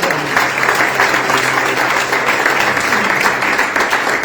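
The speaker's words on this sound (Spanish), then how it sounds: "Den un aplauso fuerte al Señor" Loud, dense applause fills a church congregation, many people clapping hard and continuously in an even roar with faint crowd murmur beneath and no speech on top.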